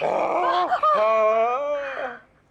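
A man imitates a dog's growl with his own voice, a drawn-out rough, throaty snarl lasting about two seconds, loud and close, with a brief dip midway before it fades.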